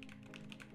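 Quick run of keystrokes on a computer keyboard, soft close taps in an uneven rhythm over a steady background hum, very short and faint.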